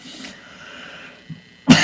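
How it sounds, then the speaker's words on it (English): A single harsh sinus cough bursts out at the end, loud and close, after a faint breathy lead-in with a soft throat sound just before it. "I hate having sinus coughs."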